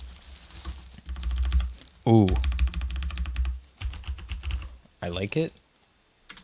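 Typing on a Keychron K4 Bluetooth mechanical keyboard, a run of quick close-up clacks for about two seconds, then brief bursts between a person's spoken reactions.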